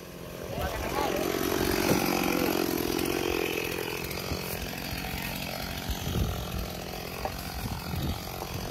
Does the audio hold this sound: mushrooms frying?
no